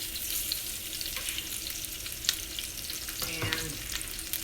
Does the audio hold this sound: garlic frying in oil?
yes